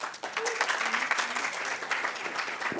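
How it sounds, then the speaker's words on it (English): Audience applause welcoming a speaker at a founder's birthday celebration event, a moderately distant, steady patter of many hands with a few faint voices and whistles mixed in. "Let's welcome Ms. Prerna Langa with a big round of applause"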